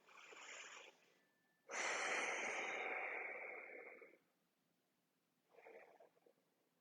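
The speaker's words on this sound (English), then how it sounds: "and 3 nice deep breaths here." Slow deep breaths taken during a seated exercise class focused on breathing: a short inhale, then a long loud breath lasting about two and a half seconds, and a brief softer breath near the end, close and with no talk.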